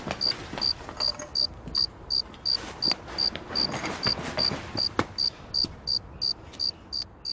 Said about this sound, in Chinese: 再怎么着，他也应该把那个蛐蛐给收回屋啊。